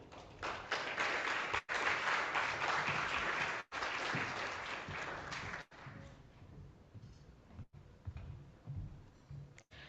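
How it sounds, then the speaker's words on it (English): A conference audience gives a speaker a round of applause. The clapping is dense and loud at first, then thins into scattered, fading claps with a few brief gaps. "Please give a warm round of applause to Ms."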